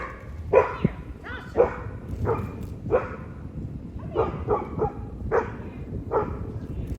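Dog barking in repeated excited bursts, about nine sharp barks spread evenly, at a Lexus LC500 car, heard at moderate distance over a steady low background rumble.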